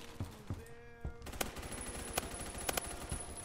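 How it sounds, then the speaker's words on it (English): Grenade blasts and automatic rifle fire in the first-person shooter Phantom Forces, with an M16A3 in use: sharp cracks and bursts over a steady roar of battle noise, with several loud impacts spaced across the clip. "Oh, that was a grenade."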